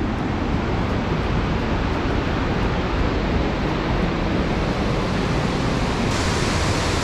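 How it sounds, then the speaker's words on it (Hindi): Loud rushing water near Dawki, a steady dense roar filling the air with no break and no voices over it. "यहाँ पे पानी का आवाज़ इतना है"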